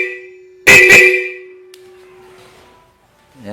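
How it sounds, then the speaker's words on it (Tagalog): A Bosch horn fitted to a motorcycle gives one loud, close honk lasting about half a second, its chord-like tones sounding together, then fades into quiet. "Ito kasing busina ko ng totit sa motor ko, sabay lang siya."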